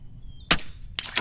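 A rimfire rifle fires during precision rifle practice: a single sharp, close crack is followed about half a second later by two quicker, softer taps as the round strikes a steel target.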